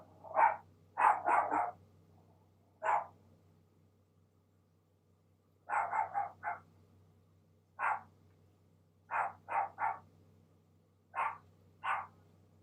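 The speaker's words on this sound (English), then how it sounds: "Silly dog." A dog named Thunder barks in repeated short bursts, some single and some in quick clusters of two or three, spread over several seconds, fairly near, over a faint steady low hum, with no talk.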